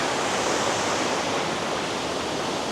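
Steady, loud roar of a waterfall in South Tennessee, heard up close beside the water as a dense, unbroken rush with no pauses.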